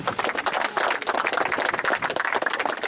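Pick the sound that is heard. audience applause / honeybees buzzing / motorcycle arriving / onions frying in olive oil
audience applause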